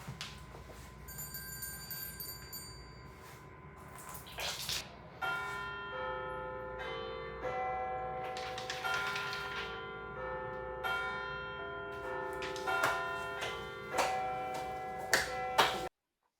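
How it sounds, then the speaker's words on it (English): Clear high-pitched handheld bell tones ring out repeatedly, each strike leaving a shimmering ring that overlaps the next, with a few sharper metallic hits. "the higher pitched handheld bell ring"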